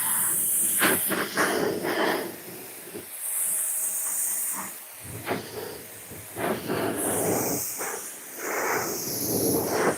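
An air blower dries car tires and wheels while a car is prepped for a show, a loud close rushing hiss that surges and dips as the nozzle moves around, with brief breaks between blasts.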